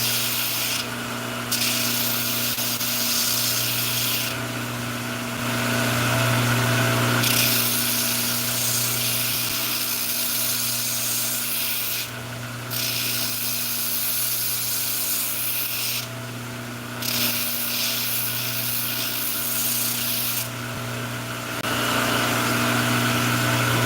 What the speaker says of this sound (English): I'm just going to gradually grind that in just a little bit.